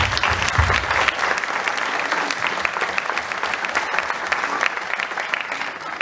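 Audience at a sports awards evening in Barentin applauds a boxer from the Boxing Club Barentinois, steady sustained clapping from a full crowd throughout, fairly loud and continuous.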